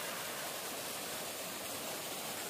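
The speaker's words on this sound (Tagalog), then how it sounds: "Yan yung tubig galing sa taas." Steady rushing water from the Alps at Eibsee in Bavaria, Germany, a continuous broadband roar like a stream or small waterfall pouring downhill, close and constant.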